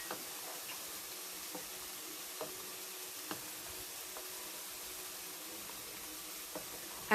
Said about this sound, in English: the meat has started frying and started boiling